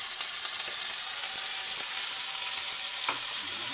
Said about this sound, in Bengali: আদা বাটাটাকে আমি ভালো করে মশলার সাথে কষিয়ে নিচ্ছি